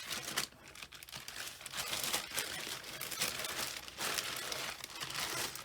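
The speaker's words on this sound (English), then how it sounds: "apologies about the plastic bags" Plastic bags crinkle and rustle continuously during a cross-stitch stash wrap-up, close to the microphone, fairly quiet with bursts of crisp crackling and no speech.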